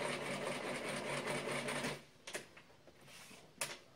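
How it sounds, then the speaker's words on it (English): A sewing machine stitches a tulle costume underskirt, running steadily and close for about two seconds, then stopping with a few scattered clicks and fabric handling sounds. "And I sew it on both sides of the overlap."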